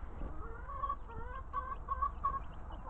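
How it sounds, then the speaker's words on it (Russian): Soft, chirpy clucking and peeping from month-old chicks in a fenced pen, repeated in short bursts over a low background hum. "Здесь вот у нас цыплятки"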